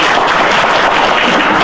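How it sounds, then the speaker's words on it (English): Dense, loud audience applause for Sarah at a health talk on weight loss and diabetes reversal, a steady wash of many hands clapping with no gaps, heard alone. "A big round of applause for Sarah"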